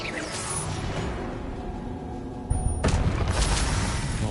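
In Hogwarts Legacy, a cast of the Expelliarmus spell lands as a whooshing magical burst, followed by a sudden heavier boom-like impact partway through amid continuous game ambience.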